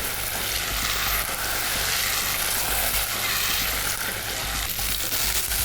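Butter hitting dark caramelized sugar for a tarte tatin sizzles and fries loudly and steadily, a dense continuous hiss with no voices over it.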